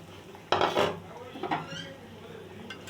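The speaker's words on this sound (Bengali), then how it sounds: "দিয়ে ভালো করে কষিয়ে নেব।" Boiled potatoes and peas for ghugni land in a pan and are sautéed. A loud clattering clank opens the clip, then a spoon scrapes against metal a few times with a light sizzle, up close and with no voices.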